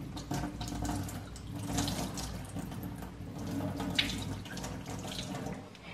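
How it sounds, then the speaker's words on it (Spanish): Water from a bowl of soaked cabbage pours steadily into a kitchen sink for several seconds, a continuous close splashing rush with no talking, made while preparing pupusas. "lo que voy a hacer es tirarle el agua al repollo"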